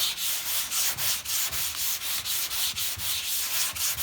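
Car bodywork on a 1975 Ford LTD is dry block sanded by hand, producing a steady back-and-forth rasp of abrasive paper, about three strokes per second, close and alone.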